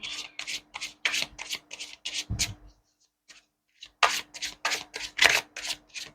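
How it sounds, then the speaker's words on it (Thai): Tarot cards are shuffled and laid out by hand in short, crisp riffling bursts close by, with a brief quiet gap before the card handling resumes. "ขอเป็นตัวแทนเปิดไพ่ให้กับชาวกรกฎด้วยนะคะ"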